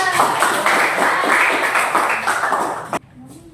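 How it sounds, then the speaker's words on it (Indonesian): Pupils in an Islamic religious education class give a brief round of clapping that runs steadily for about three seconds, then cuts off abruptly into near quiet. "Ayo beri tepuk tangan ya."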